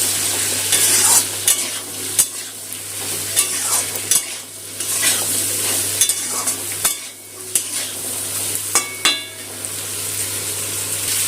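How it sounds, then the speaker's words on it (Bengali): Potato and papaya pieces frying in oil with salt and turmeric, a constant sizzle broken by frequent clattering spatula scrapes against the pan, close and loud, with a low steady hum underneath and no speech. "নুন হলুদটা আলু পেঁপের সাথে মিশিয়ে আলুটা ভেজে নেব"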